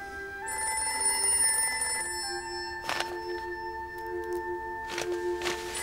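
A telephone rings before being answered, its tonal bell sounding in two long bursts separated by a short pause, clear and close, each burst with a buzzing shimmer over a quiet background.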